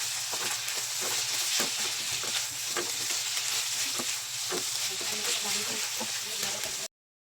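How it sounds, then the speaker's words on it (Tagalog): Braised chicken is stirred in a frying pan, with a constant close sizzle and repeated scraping taps of the spoon. The sound stops abruptly at the end. "Saka natin ito haluin. Pagsamahin na natin siyang isa."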